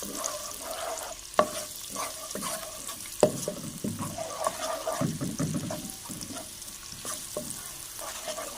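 Garlic-ginger paste sautéing in a pan for macaroni: a quiet continuous sizzle with a couple of sharp utensil knocks and soft stirring, nearby and without talk.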